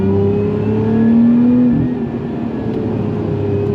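Lotus Emira sports car engine pulling hard up a hill climb, a loud close droning rise in pitch that peaks and then drops back as the revs settle, with no talking.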